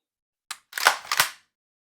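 An Umarex Walther CP88 CO2 air pistol fires three quick sharp shots, close and crisp, one short pop followed by two louder snaps in rapid succession.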